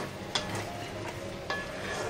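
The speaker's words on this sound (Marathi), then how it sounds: "आता जरासं हलवून घेऊया." Masala fries in oil in a pan while a spoon stirs it, a continuous soft sizzle broken by two brief scraping strokes.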